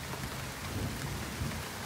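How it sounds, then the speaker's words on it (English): Heavy rain pours steadily during a thunderstorm in a wildcat enclosure, with a dense, continuous roar of rainfall and low thunder rumbling underneath. "Oh, it's gonna rain harder now."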